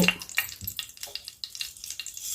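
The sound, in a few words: chana dal and urad dal frying in hot oil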